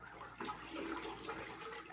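Unsoftened hard water is stirred around in a container for lactobacillus brewing, giving quiet, close sloshing and swirling over two seconds with no talk.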